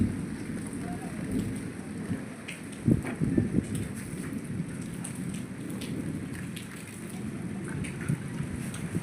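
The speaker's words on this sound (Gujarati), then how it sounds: "હવે આમ છાંટા ચાલુ થયા છે।" Rain begins falling in a village as a thunderstorm gathers, steady patter of drops on surfaces with a few louder hits and low rumbling, a voice talking now and then.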